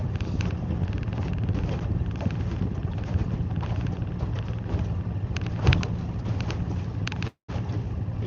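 Wind sweeps across a lake during a cold front, an easterly breeze buffeting the microphone with a steady, dense rumble throughout, broken by one brief dropout near the end.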